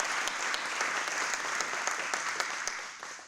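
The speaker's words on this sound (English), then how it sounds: "So please give her a round of applause." An audience applauds at an alumni awards ceremony, dense sustained clapping from a crowd with a few sharper individual claps standing out, fading slightly at the end.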